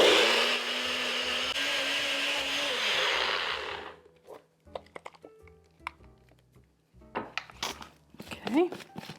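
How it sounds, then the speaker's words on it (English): Blender whirring through vegan blue cheese dressing ingredients, a loud steady motor drone with a pitch dip before it cuts off, followed by clinking and clattering kitchen sounds. "So we're just gonna blend this up till it's really smooth"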